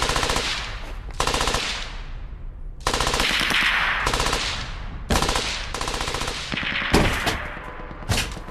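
Loud bursts of automatic gunfire in the World War II shooter Brothers in Arms: Hell's Highway come in several rapid volleys separated by short pauses, close and harsh.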